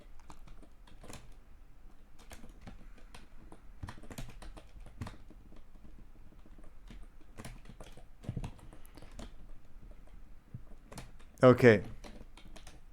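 Keys clack on a computer keyboard in sparse, uneven bursts of slow typing, close and quiet, with a brief spoken word near the end.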